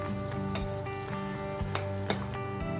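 Crab curry masala sautés in a pan with a continuous sizzle, broken by several sharp stirring scrapes and clanks against the pan, while a faint tonal hum runs underneath.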